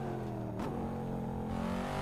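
A 2020 Corvette C8 with its engine mounted in the back revs and accelerates in a VR driving game, a steady mid-pitched engine drone that holds loud and continuous throughout.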